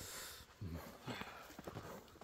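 A horse walks at a livestock sale, its hooves landing in a few soft, uneven thuds close by on the ground, faint and brief.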